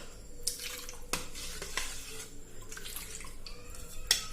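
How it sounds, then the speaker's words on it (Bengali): Boiled milk poured into palm fruit pulp makes quiet splashing and dripping, with a few sharp clinks from the container scattered throughout. "তো ঢেলে দিচ্ছি দুধটা।"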